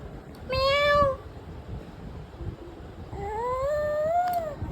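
A baby imitates a cat's meow twice, with a short rising-falling cry near the start and a longer drawn-out one after a pause, both close and clear over quiet room noise.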